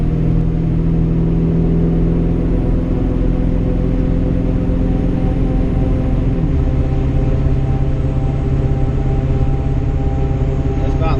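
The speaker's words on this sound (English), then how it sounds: "real nice sound out of these tires" Steady, loud road roar with a low droning hum from mud-terrain tires on highway pavement at around 60–70 mph, continuous and unbroken, with a slight shift in tone partway through.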